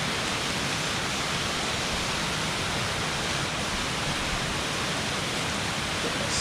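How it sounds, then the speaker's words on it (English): Waterfall rushing in cold 18-degree weather, a constant broad roar of falling water filling the whole stretch, steady and close with no voices. "man, that waterfall is gorgeous."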